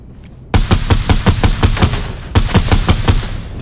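Close, loud rapid gunfire in the video game Fortnite: two quick rhythmic bursts of automatic shots with a short pause between them, no talking.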